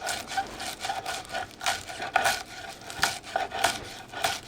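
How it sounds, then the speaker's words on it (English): A knife chops herb stems on a cutting board while shrimp scampi is prepared, a quick irregular series of close, crisp taps and scraping strokes. "I am also chopping the stems here, because they're fine enough"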